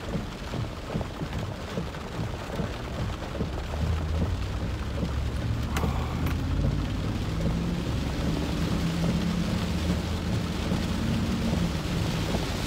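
Thunderstorm during a tornado-warned storm chase near Fort Smith, Arkansas: steady heavy rain roars continuously, with a deep low thunder rumble swelling in the second half, no talking.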